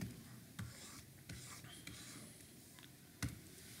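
Pen or chalk writing on paper during a chemistry lesson, faint soft scratching with a few sharper taps, quiet and close, no talking.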